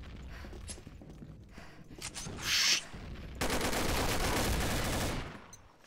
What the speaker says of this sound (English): I guess I'll just fire into the air then